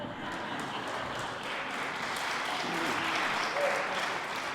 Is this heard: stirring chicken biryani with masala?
no